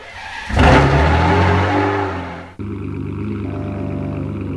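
Maserati MC12 street version in the video game Driving Empire, its engine revving hard and loud, holding high, then dropping briefly before settling into a steady, strong drone at lower pitch.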